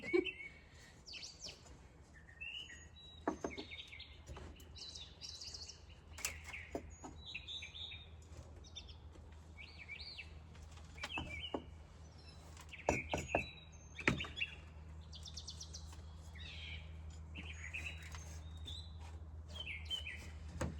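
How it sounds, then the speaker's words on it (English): Scattered bird chirps and tweets ring out at intervals over a quiet outdoor background on a spring day, with a few soft knocks and a low hum. "Do you guys hear the birds?"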